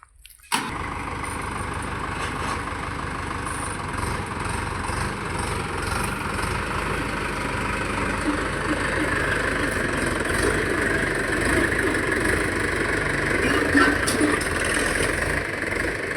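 A Mahindra tractor fitted with a rotavator kicks into life just after the start. Its engine then idles at a steady, loud, chugging rumble close by, holding an even note to the end.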